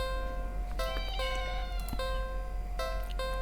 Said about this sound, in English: At the end of the alley, in a big cardboard box, is a cat.